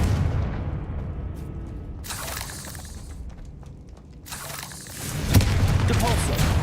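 Fiery blasting spell from Hogwarts Legacy, a video game, going off in repeated bursts: a booming blast near the start and a louder one around five seconds, with constant game effects and rumbling between them.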